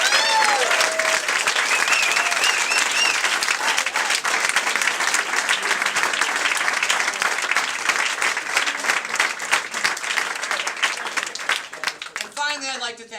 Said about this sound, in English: please join me in a round of applause for you all